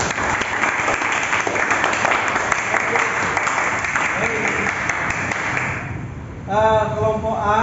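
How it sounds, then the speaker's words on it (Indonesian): A classroom audience gives steady applause for several seconds, then the clapping fades and a voice starts talking. "Tepuk tangan."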